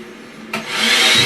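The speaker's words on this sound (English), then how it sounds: "There's a blow dryer." A hair dryer switches on partway through, its airy whoosh building quickly into a loud, steady blowing rush heard up close, with no talking.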